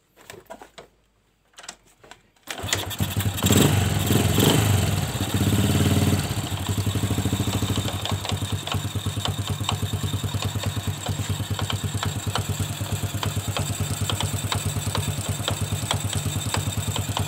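An old Honda Supra 100cc motorcycle engine runs with a rough noise from inside the right side of the engine. It starts after a brief quiet moment, then holds a loud, steady, close-up idle with a busy mechanical clatter.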